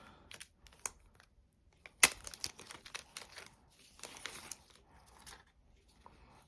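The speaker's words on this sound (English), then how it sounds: "Let's go ahead and unwrap this." Plastic wrap crinkles and tears off an Amazon Echo Dot 4th Gen box, close and quiet, with a sharp rip near the start followed by bursts of crackling and rustling handling.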